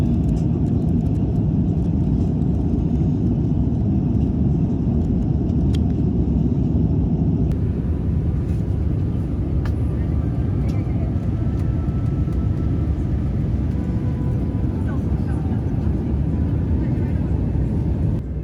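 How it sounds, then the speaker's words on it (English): Steady, loud broadband roar inside an EVA Air long-haul airliner cabin during a night landing into Brisbane, with a constant low rumble of engines and airflow and no talk. "Now coming into land, please enjoy this landing footage into Brisbane at night."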